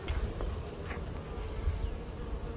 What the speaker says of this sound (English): the bees seem to be fairly calm, so maybe that's a good indication